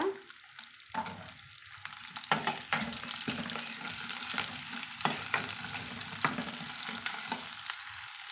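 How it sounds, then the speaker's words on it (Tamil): Small onions, shallots, sautéing in a pan for a curry-leaf curry, a steady close sizzle with repeated sharp scrapes and clinks of a spoon stirring, no voices. "இப்போ சின்ன வெங்காயம் வந்து ஒரு கைப்பிடி அளவுக்கு சேர்த்து வதக்கிலாங்க"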